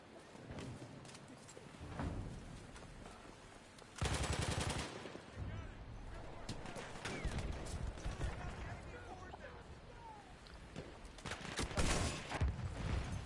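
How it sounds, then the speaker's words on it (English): Artillery and gunfire in a multiplayer shooter match, with bursts of rapid shots and heavier booming blasts around the midpoint and near the end, under steady commentary from a caster. "that was artillery fire"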